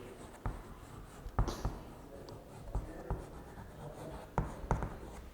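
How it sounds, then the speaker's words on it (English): Chalk or marker writing on a classroom board during a basic science lesson, with soft scratchy strokes and a few sharper taps at irregular intervals, fairly quiet against room noise. "I will write here"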